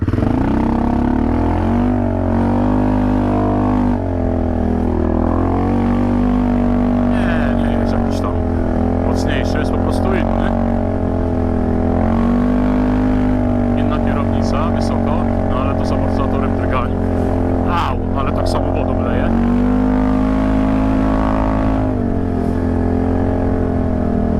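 A Segway AT5 all-terrain vehicle hums and whines steadily nearby, pitch rising and falling as it drives off, with people talking over it.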